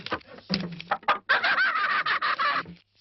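Chickens clucking close by, a burst of sharp clucks and squawks, then a dense run of agitated calls that stops abruptly.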